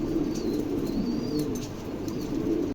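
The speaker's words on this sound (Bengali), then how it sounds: "কবুতর দেখেন" Pigeons kept for sale give soft, low coos close by, a steady murmuring with a few light wing flutters and faint chirps, and no voices over it.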